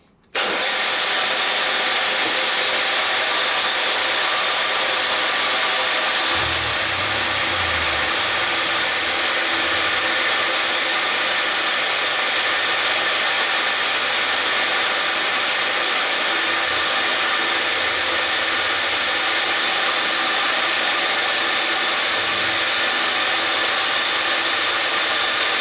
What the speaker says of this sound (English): Drilling plastic, I'll drill right the way through